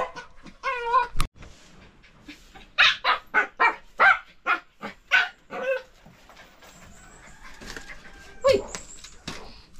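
A dog barks in a quick burst of sharp yelps, then a run of about ten loud rhythmic barks, followed by softer whimpering whines near the end, with some background noise of a rural lot.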